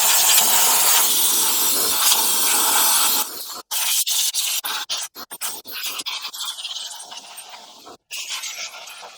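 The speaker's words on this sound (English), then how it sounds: "I just brought a small compressor with me outside, so I'm just going to blow off all the dirt around" A small air compressor blasts air to blow dirt off a Jaguar S-type engine outdoors, a loud hissing rush at first, then broken into many short bursts and clicks.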